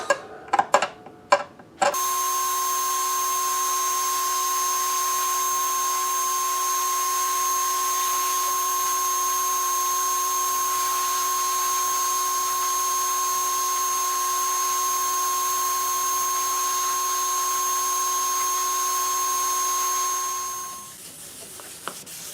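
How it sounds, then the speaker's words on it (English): A steady, loud mechanical whine with a constant tonal hum runs for about twenty seconds without pause, then cuts off, after a few brief clicks at the start, as a lacquer finish on stained curly maple is wet sanded. "now I'm obviously doing the wet sanding, getting rid of all of the little imperfections in the finish."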